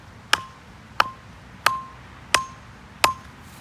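Wooden stakes are driven into the ground at the edge of a driveway: five evenly spaced, sharp, close hammer blows, each with a short ringing tone, and no talk.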